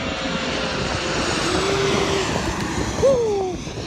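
A fixed-wing airplane flies overhead, a broad steady engine roar with a rising whine, loud and fairly close, sustained throughout with no talk.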